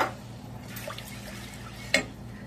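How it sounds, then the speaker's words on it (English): Evaporated milk poured into a roux in a pan over very low heat for macaroni and cheese, a soft steady liquid pour with a brief clink near the end. "So I'm adding 3 tins of evaporated milk."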